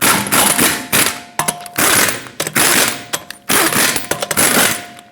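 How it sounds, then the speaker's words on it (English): A torque wrench tightens a 2008-2012 Honda Accord's lug nuts in a cross pattern, giving sharp metallic clicks in short bursts separated by brief pauses, loud and close. "in a cross pattern we're going to torque them to 79 foot-pounds"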